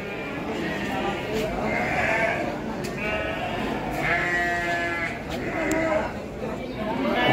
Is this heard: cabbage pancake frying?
no